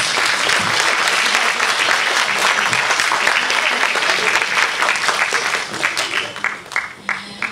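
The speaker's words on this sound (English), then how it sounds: "I would like to ask of all of you to give a big round of applause." A seminar audience at a university food truck event bursts into loud, sustained applause that fills the room, thinning into scattered individual claps near the end.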